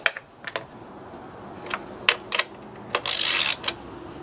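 A ratchet snugs spark plugs down the line on a BMW E36 engine, giving short, sharp clicking bursts spaced irregularly, close and fairly quiet, with a longer louder rasp near the end.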